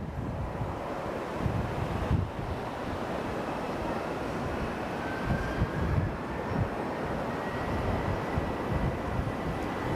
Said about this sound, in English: we've got another 737 arriving on the right runway